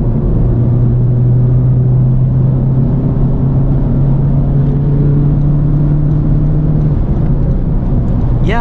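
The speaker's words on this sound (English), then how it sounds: "I don't think the fake engine sound is all that bad." A 2021 Honda Civic Type R accelerates hard at wide-open throttle in fifth gear, its engine a loud, steady drone with a slowly rising tone and a synthetic engine sound layered in, heard from inside the cabin with road rumble.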